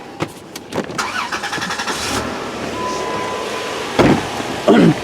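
A 2002 Dodge Grand Caravan with a running fault is started close by, with several sharp clicks and knocks before the engine turns over into a steady idle, punctuated by a couple of louder thumps near the end.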